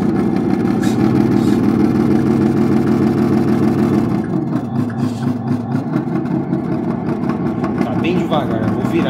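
A Scania truck engine turns slowly under high torque, giving a heavy, low rumble with a steady throb that softens and shifts partway through, while someone talks over it.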